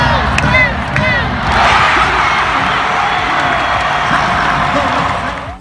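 A crowd at a basketball game in Texas cheers and roars steadily, loud and close, with whistle-like shouts rising above the sustained din throughout.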